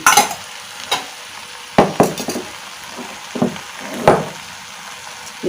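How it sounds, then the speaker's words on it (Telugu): A spoon stirs an eggplant and pea curry in a pan, giving scattered scraping clinks against the metal over a low sizzle, close and moderately loud. "సరే మనం కర్రీ అంతా కలబెట్టుకుందాం"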